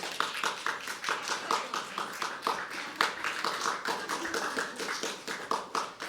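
Audience at a live poetry open mic at The Habitat clapping in a quick, uneven burst of many hands, close and lively, carrying on for several seconds.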